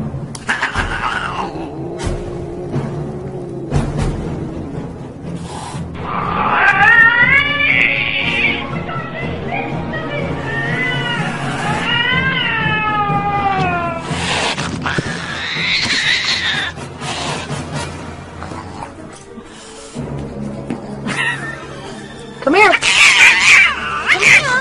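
A cat meows and caterwauls in long, wavering, rising and falling wails over background music, loud and close, with short pauses between calls.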